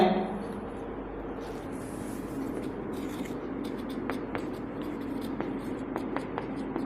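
Chalk or marker writing on a board during an agriculture lesson, a steady scratchy stroking with short sharp taps near the end, close and continuous, with no talking over it.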